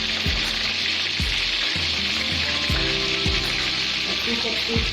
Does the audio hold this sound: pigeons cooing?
no